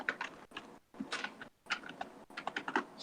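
Rapid bursts of clicking keystrokes from a computer keyboard as C# console code is typed, coming in clustered runs separated by short pauses, close and fairly quiet.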